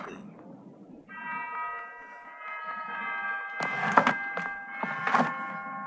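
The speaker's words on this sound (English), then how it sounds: "Wait, you'll hear the Fire Emblem theme." Fire Emblem: Three Houses theme music playing on a loading screen, sustained melodic tones entering after a quiet opening, with bright percussive swells and clattering hits layered over the tune.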